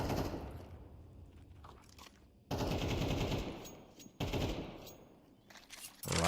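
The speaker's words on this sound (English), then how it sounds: "Couple more shots to Devotivek, and he's waiting it out." Gunfire in a competitive video game match: bursts of rapid automatic shots and crunchy impacts come in loud clusters separated by quieter gaps, with no speech.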